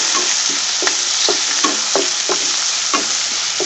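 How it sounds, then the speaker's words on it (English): Onions and chili sauté in a pan for soya chunk pulao, giving a constant loud sizzle broken by regular scraping strokes from a spoon as the mixture is stirred, close by and without speech. "Saute this for 5 minutes."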